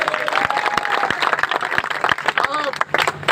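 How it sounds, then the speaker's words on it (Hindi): Crowd applause at an outdoor political rally, a burst of scattered clapping mixed with someone speaking loudly over it. "बुजुर्गों के लिए जरा तालियां बजाएं।"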